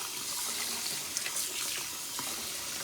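Tap water runs steadily over quail eggs cooling in a pan, a continuous close splashing hiss with small clinks and ripples as the eggs are rolled around, and no talking.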